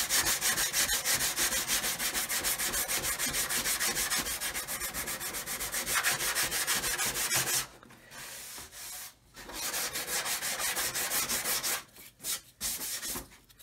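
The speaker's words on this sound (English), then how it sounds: "you can use these Infini sanding sticks and get the same effect" Steady rhythmic rasping of a sanding stick rubbing back and forth over the hull of a 1/200 Titanic model, continuous for several seconds, then pausing briefly and resuming in short strokes.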